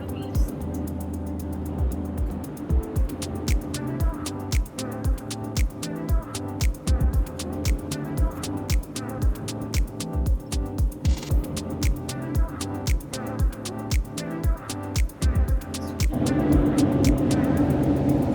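A Mercedes Sprinter-based Leisure Travel Van engine labors up a 7% Colorado mountain pass at about 50 mph and 2,500 RPM, a steady loud drone with a brief shift, under rhythmic road noise and cabin rattles.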